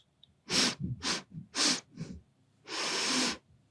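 Several quick, close sniffs in a rapid series, followed by a longer drawn-in breath through the nose, with no talking.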